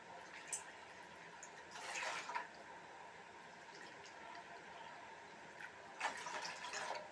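Water pours and splashes into a pot in two separate bursts, a steady liquid rush over low background hiss, while making mushroom soup.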